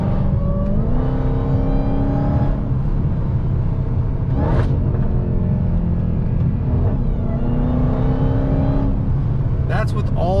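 Inside a Dodge Hellcat with the windows up, a supercharger whine rises and falls over a steady engine rumble while driving, with some talking in the cabin.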